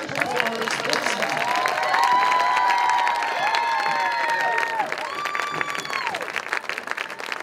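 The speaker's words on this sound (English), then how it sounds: "let's have one more round of applause for all of our superstars" Applause from an audience at a 2021 Florida awards ceremony, a sustained dense patter of many hands with some cheering, while a voice talks over it.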